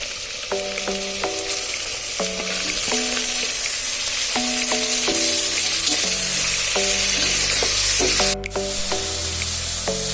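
Goat head meat frying in a pan with onions and ginger-garlic paste gives a loud, continuous hiss and sizzle, with stirring scrapes beneath a plucked melodic tune playing over it.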